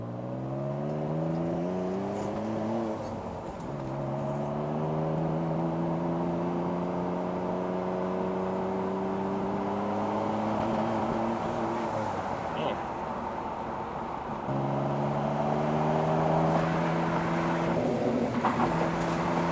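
Turbocharged engine of a 1995 Mitsubishi 3000GT VR-4 Spyder accelerating in fourth gear, a steady loud drone that climbs in pitch, drops at a gear change and rises again, with wind and road noise.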